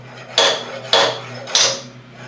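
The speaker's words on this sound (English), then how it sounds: "let's knock this spur center out of" Three sharp metallic knocks, evenly spaced, each ringing briefly before fading, as a spur center is knocked out of a woodworking lathe, close and loud in an otherwise quiet space.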